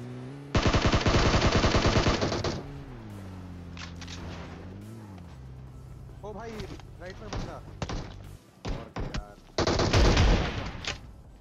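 Rapid automatic gunfire from PUBG Mobile rattles in a loud burst. Someone talks over quieter stretches, then another sharp volley of shots closes the moment.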